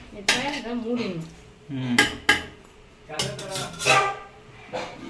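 A lid goes onto a pot of chicken biryani with metallic clinks and clanks, several sharp knocks of metal on metal among spoon scrapes, while someone talks over it.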